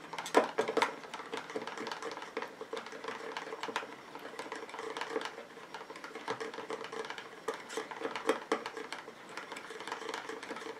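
A rose, sea buckthorn and beech bud night cream mixture with vitamin E is stirred in a small container, giving a quiet, steady run of rapid ticking and scraping clicks throughout.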